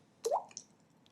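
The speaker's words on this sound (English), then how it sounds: "maybe not water drop." A single water-drop alert tone from a trading app: one short, bright liquid plop followed by a faint secondary drip, heard alone with no talking.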